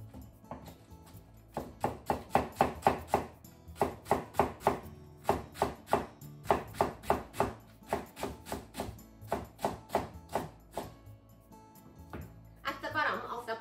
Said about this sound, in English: let's cut the bottom half into thin diagonal strips